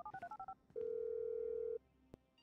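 A phone in the video game GTA 5 dials a quick run of beeping keypad tones, followed by one long steady tone and a short click, all clear and close with no talking.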